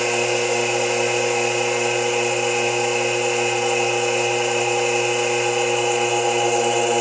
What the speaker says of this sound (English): Now I'm going to start increasing the vacuum.